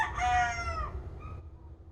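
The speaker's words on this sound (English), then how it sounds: "the rooster is in my yard now. That's why it's getting louder" A rooster crows once in a home yard, a loud, close, drawn-out cock-a-doodle-doo that rises and then trails off into a few fainter notes, with no voices over it.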